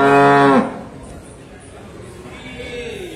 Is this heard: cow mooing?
yes